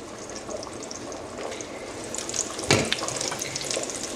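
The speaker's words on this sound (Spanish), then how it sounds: "Ya la albóndiga está sofriéndose" Meatballs sizzling in a pan for a Cuban spaghetti dish, a steady close crackle with a brief louder burst of hiss midway, no talking.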